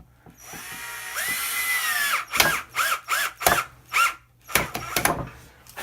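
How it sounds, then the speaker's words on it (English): A power drill drives screws into the bolt-on neck joint of a solid-body V guitar, a whirring spin-up followed by a series of short, sharp bursts of the motor with brief pauses between, close and clear. "Now, let's start the screws."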